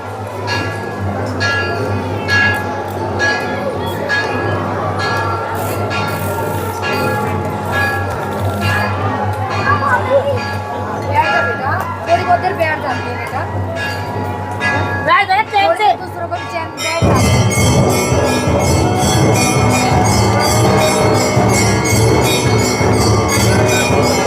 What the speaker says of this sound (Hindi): इस समय आरती चल रही है, आप शंख नगाड़े की आवाज़ सुन रहे होंगे